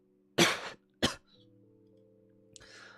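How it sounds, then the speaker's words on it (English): A man coughs twice in quick, harsh bursts, close and loud, over a faint steady electronic hum, followed by a brief rustle. "Sorry, I was coughing up a lung."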